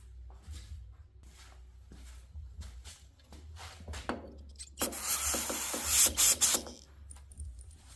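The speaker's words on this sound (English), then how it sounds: "We'll just give that a shot of brake cleaner up real quick." Brake cleaner sprays in a short hissing burst onto a heavily carboned, sooty engine part from an Allis Chalmers garden tractor, coming after a few quiet handling knocks and rubs.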